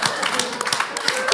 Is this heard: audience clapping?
yes